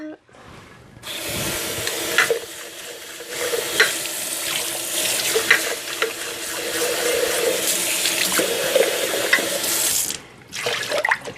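A glass jar used for fruit kefir is rinsed under a running tap, with water gushing steadily for several seconds and splashing and rubbing inside the jar, close and fairly loud, starting and ending abruptly.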